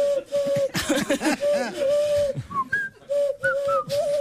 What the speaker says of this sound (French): Bah si, c'est siffler.